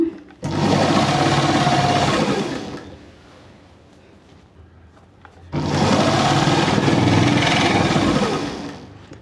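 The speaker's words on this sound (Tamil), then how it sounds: "இப்போ இந்த அஞ்சரை மீட்ரு ஃபுல்லாக நான் தைச்சிட்டு வந்துடுறேன்" A sewing machine stitches fabric in two loud, steady runs of whirring with a short quiet pause between them, heard up close with no talking.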